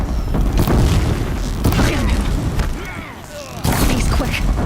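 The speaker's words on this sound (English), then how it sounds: "If the Deathbringers keep firing, this bridge will go." Deathbringer war machines in Horizon Zero Dawn firing and exploding on a bridge, heavy booming blasts and rumbling impacts in loud bursts through the whole stretch, with battle noise and voices mixed in.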